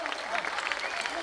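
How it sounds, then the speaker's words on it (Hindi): Audience applause at a Hindi hasya kavi sammelan comedy poetry show, a steady wash of clapping sustained throughout the short stretch at moderate loudness. "जोरदार ताली बजाओ यार"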